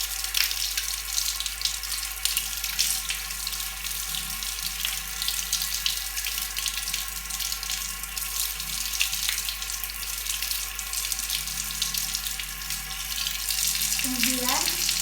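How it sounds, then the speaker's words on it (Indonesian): A tap runs steadily while hands are rinsed from the fingertips up to the elbows during a clinical handwashing procedure, a continuous close hiss of water with a faint steady hum beneath it. "membilas gunakan air dari ujung"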